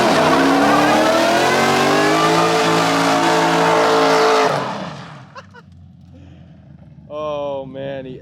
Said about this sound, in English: I kind of want to do a burnout real quick